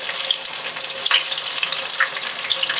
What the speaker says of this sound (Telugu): చూడండి, అంతా కలిపి చిటాపటా అంటున్నాయి కదా